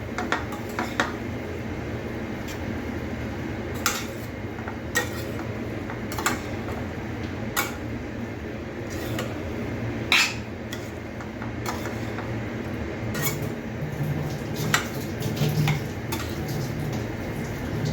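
A spoon stirs hand-crushed potatoes coated in spices in a pan, giving soft scraping and irregular clinks against the metal over a low sizzle that runs throughout.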